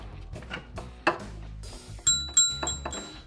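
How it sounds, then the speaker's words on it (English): A bell rung by hand, several bright metallic dings in quick succession with ringing tones, close and fairly loud, among light indoor clatter and no speech. "I got to ring the bell."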